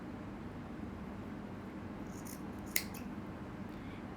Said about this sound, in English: Gonna cut the edges